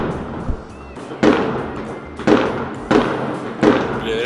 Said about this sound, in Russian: реально стреляют, кажется.